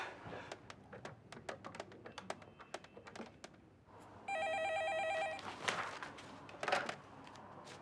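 A telephone rings in bursts of electronic trills, loud and close, after a stretch of keyboard typing and tapping in an office setting.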